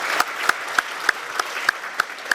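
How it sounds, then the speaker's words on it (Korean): Audience applause at an apartment redevelopment meeting, a steady crowd clapping with sharp individual claps recurring roughly every third of a second over the wash of hands. "박수 한번 쳐주시겠어요?"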